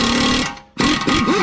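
An impact wrench works a stubborn bolt on a Mini Cooper S R53, giving a loud, dense rattling buzz that pauses for a moment and then hammers on again at close range.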